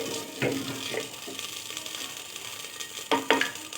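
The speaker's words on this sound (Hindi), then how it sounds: "तो अब हम इसमें डालेंगे लहसुन अदरक का पेस्ट।" Garlic ginger paste hitting hot onions in a cooking pot, a soft continuous sizzle with a few sharper spits and stirring scrapes, fairly quiet and close, with no talking.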